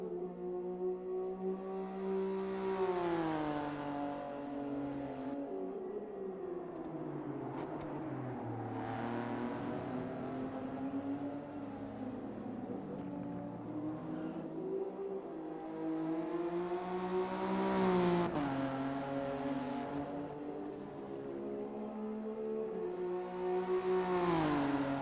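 Nissan and Mazda race cars lapping Suzuka in a racing game, engines revving up and down in repeated sweeping rises and falls, moderately loud and continuous with no talk.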